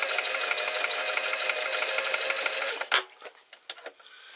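A sewing machine runs a zigzag stitch along shoulder straps, with a steady, dense buzz for about three seconds before it stops, followed by a few scattered clicks and handling taps.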